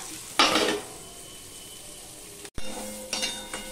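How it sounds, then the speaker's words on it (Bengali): Pointed gourd sizzles in a hot pan in two bursts, with a quiet stretch between, a brief cut, and stirring noises as the frying flares again. "দেখো পটলগুলো ভাজা হয়ে গেছে।"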